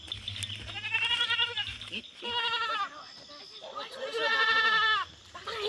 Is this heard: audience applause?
no